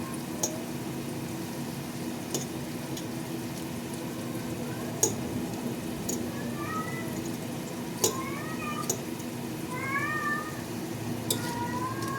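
A cat meows repeatedly in a kitchen during cooking, short rising cries scattered over a steady background hum and simmering, with occasional sharp clicks and clanks nearby.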